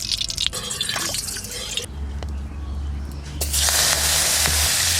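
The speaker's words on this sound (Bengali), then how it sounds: "সর্ষের তেল, মাছ ভাজবো, তেল দিলাম।" Mustard oil pours into a pan for frying koi fish, a close splashing trickle that gives way to a brighter hiss as it spreads, with brief low rumbles underneath.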